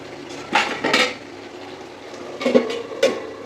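A spoon clanks against a pot while mutton curry with spices is stirred and sautéed, giving a few sharp metallic knocks in two short bursts over low background hiss.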